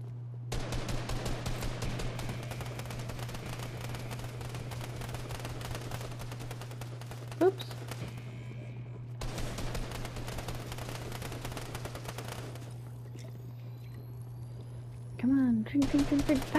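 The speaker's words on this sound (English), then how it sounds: "I'm just gonna take the SMG." Rapid submachine gun fire in a video game, long continuous bursts with short pauses, loud and close over a steady low hum.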